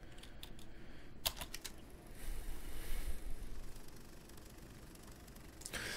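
Mechanical keys clacking in a quick burst of typewriter typing inside the survival horror game Resident Evil Village, with a few sharp strikes early on and fainter taps later over a low ambient hum.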